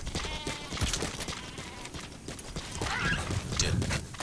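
Sheep bleat in the video game Metal Gear Solid V: The Phantom Pain, several calls over a busy backdrop of hooves and ambient game sounds, fairly loud and close.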